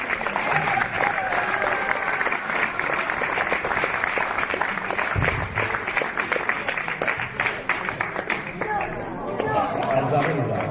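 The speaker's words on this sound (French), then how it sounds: "Alors on les applaudit, on applaudit nos ventes agatoines." Audience applauding women performers arriving at a Red Cross show, dense clapping steady throughout amid crowd chatter and someone talking over it.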